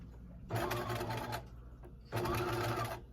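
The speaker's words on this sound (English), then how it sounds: "Then I'm going to stitch from that lower edge up to the circle." A sewing machine stitches a 5/8 seam on a fleece pullover in two bursts, a steady whirring run, a short pause, then a second run, close and alone without talk.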